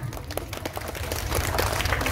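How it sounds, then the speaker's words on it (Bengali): An audience applauds performers at a Basanta Utsab stage program. The clapping starts scattered and thickens into steady, dense applause. "ওনাদের উদ্দেশ্যে একটু করতালি হয়ে যাক"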